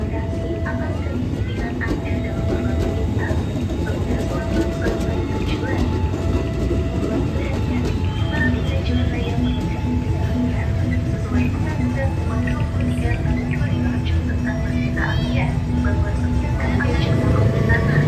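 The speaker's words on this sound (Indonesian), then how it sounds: "Masuk kereta api Malabar dari Malang dengan tujuan akhir Bandung." The Malabar passenger train from Malang rolls into the station in a steady, continuous rumble, with rail clatter and squeal tones rising and falling and a brief horn-like tone, no speech heard.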